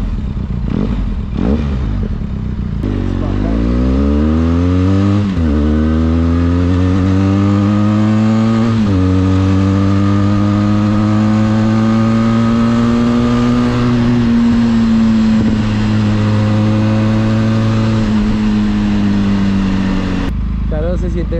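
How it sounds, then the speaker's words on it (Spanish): Benelli TRK 500cc motorcycle engine with a louder aftermarket exhaust, revving up repeatedly from a low idle into long, loud, rising sweeps, close and dominant, with a few brief clatters at the start and end. "Siento como si le hubiera puesto bajos a la moto."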